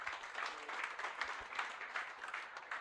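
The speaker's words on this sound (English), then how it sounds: "A big round of applause." Audience applause at a hospital competition award ceremony, a steady, moderately faint wash of clapping that holds evenly throughout.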